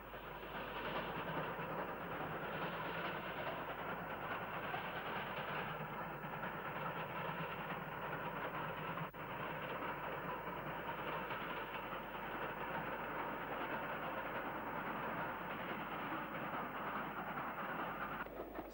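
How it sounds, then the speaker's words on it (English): A train rumbles steadily past at moderate distance crossing the 22-arch Brackley Viaduct over the Great Ouse in 1966, a continuous rolling roar of wheels and carriages with no voices. "a train crosses the 22-arch Brackley Viaduct over the Great Ouse"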